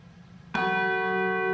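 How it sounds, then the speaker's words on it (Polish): Church bells of Warsaw ring out at a Second World War anniversary commemoration, starting with a sudden loud strike after a quiet moment, then a rich, sustained tonal hum with many overtones hanging steadily in the air. "słyszymy dźwięki warszawskich dzwonów kościelnych"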